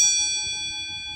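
A small old-fashioned bell is struck once, its clear ringing tone strongest at the start and then gently decaying, close by and alone.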